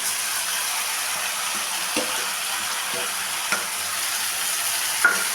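Papaya, potato and shrimp sauté in spices in a pan, giving an even, continuous sizzle with occasional soft stirring knocks and one sharper clink near the end.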